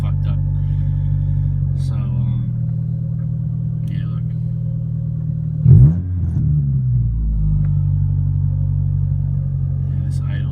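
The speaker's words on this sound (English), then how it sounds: "Yeah, this idle's crazy." Car with a full stainless exhaust idling roughly on a cold day, a low uneven rumble that stays steady near the mic, with a brief louder blip midway and someone talking over it.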